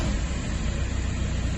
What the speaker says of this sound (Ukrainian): Не натискаючи газ, включаємо запалення і пробуємо.